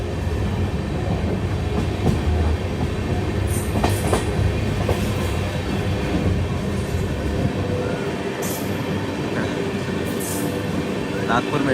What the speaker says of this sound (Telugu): అది మెట్రో ట్రైన్ పోతుంది